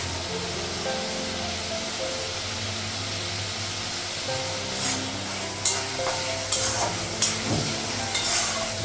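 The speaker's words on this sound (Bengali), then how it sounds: "মশলাটা পেঁয়াজটা ভেজে নিই" Onion frying in a pan with spices, with a loud, continuous sizzle and a low background hum, then a run of stirring clatters and scrapes toward the end.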